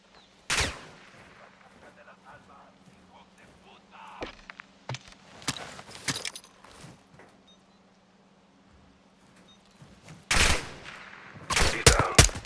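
Bursts of gunfire in Modern Warfare 2 as an aircraft is shot down: loud, sharp volleys separated by quieter stretches, with heavy shooting clustered near the end.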